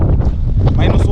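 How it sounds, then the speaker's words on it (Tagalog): Strong wind buffets the microphone with a loud, steady low rumble, gusts swelling and easing over a second or so. "Medyo malakas ang hangin."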